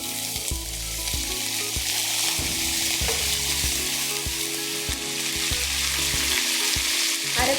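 Chopped jackfruit seeds and curry leaves stir-frying for Kerala thoran sizzle close and steady, with regular scraping and tapping of a spoon in the pan under faint background music, and nobody speaking.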